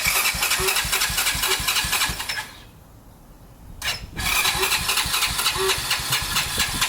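A mini four-wheeler engine with a poor carburetor and a weak battery runs with a rough, rapid chug, cuts out into near silence, then sputters and catches again, revving close by.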